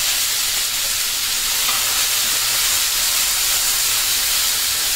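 Fresh coriander and mint leaves sauté in a hot pan for tomato chutney, making a steady, even sizzling hiss that holds at the same close level throughout with no talking.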